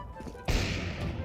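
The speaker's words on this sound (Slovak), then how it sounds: "Flashbang." Flashbang grenade going off in Counter-Strike, a sudden loud burst that gives way to a sustained hissing ring lasting to the end.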